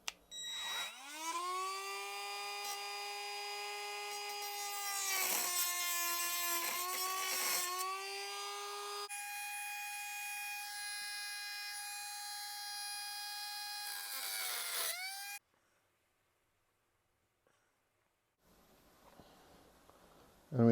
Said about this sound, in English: I found it's actually easier to use a cut-off wheel to cut the pieces.